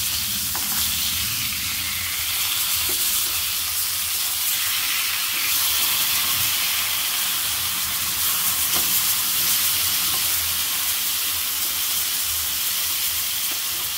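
Rawas fish fillet fries in a pan after being flipped, giving a loud, even sizzle and hiss of hot oil with faint crackles running steadily throughout.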